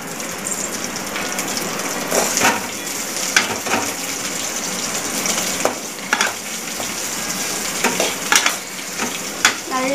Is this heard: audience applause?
no